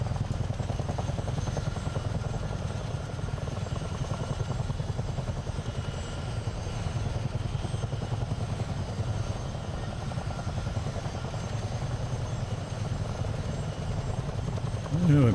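A simulated CH-47 Chinook twin-rotor helicopter flies over the Potomac near the Jefferson Memorial, a steady, loud rotor thump and engine drone throughout the game's flight, with no talking.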